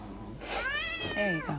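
A cat meows in a scene from the film The Hunger Games: Mockingjay, giving a drawn-out, rising and falling cry followed by a shorter second meow, fairly close and clear with no talk over it.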